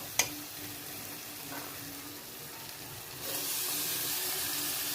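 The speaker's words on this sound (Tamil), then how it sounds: "இப்போ வெங்காயம் வதங்கிருச்சு" Onions sautéing in oil for Chettinad chicken masala give a soft, steady sizzle and hiss, with one sharp clink near the start and the frying growing louder partway through.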